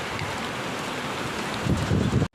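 Heavy rain and gusting wind in an outdoor thunderstorm make a steady, loud broadband roar buffeting the microphone, swelling stronger near the end before cutting off abruptly.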